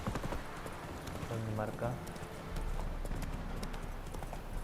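Horse hooves clip-clop steadily while riding in The Witcher 3, a continuous game soundscape with a short neigh-like phrase in the middle and someone speaking Spanish over it.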